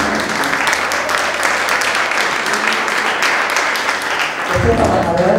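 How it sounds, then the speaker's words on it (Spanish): A crowd at an award ceremony for a film and environment contest applauds loudly and steadily for a trophy winner, with a voice breaking in over the clapping at the close. "un aplauso para él"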